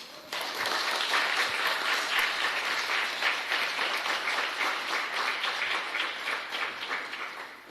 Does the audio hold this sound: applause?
yes